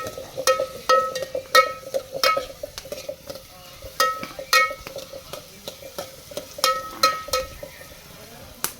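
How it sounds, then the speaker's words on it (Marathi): Onion and garlic frying in a pan over a fire, with a spoon striking and scraping the metal in irregular ringing clinks above a soft sizzle. "जाळ चालू आहे बघा आपला कांदा भुजत आलेला आहे"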